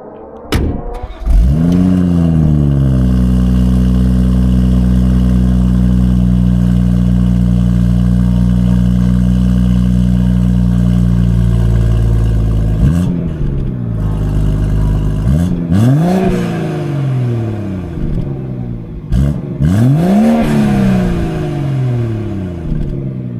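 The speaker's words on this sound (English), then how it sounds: "let's take a listen to the exhaust and experience how this thing drives" A BMW M140i's exhaust is heard loud and close while the car drives, with a steady deep drone under sustained throttle, then several sharp rev rises and falls as it accelerates and shifts through gears.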